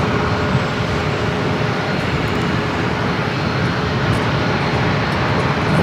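A Breeze Airways Airbus A220-300 at San Diego airport, a steady, loud jet engine roar that holds evenly for the whole stretch with no voices.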